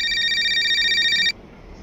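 A phone rings with a bright, steady electronic trill that cuts off abruptly after about a second, in a quiet indoor home setting.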